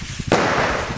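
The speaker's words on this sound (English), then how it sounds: "A lot of fireworks going off already." New Year's Eve fireworks and firecrackers going off outdoors on a cold night: one sharp, loud bang bursts out, followed by a dense crackling wash of popping.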